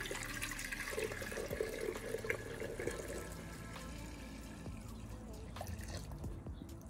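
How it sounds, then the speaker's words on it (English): Liquid is poured out of a circuit board processing tray in a steady, close trickle and splash with faint drips, a continuous watery wash throughout. "Carefully dump out the liquids."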